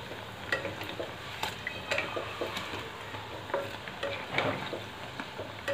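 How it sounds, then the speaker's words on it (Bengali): Jackfruit chop fritters in batter fry in oil, giving a moderate sizzling crackle with intermittent soft clicks and taps of a utensil against the pan. "এক পিঠটা ভাজা হোক তারপরে নাড়বো। এর উপর দিয়ে এরমভাবে তেল দিয়ে দেবো।"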